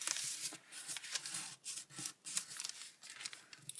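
Origami paper being folded for a Shuzo Fujimoto hydrangea, with crisp creasing, rustling and sliding strokes in quick irregular bursts, close up and without speech.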